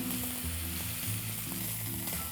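Steady, loud sizzling of chuck roast searing in a hot pan, continuous with no talking.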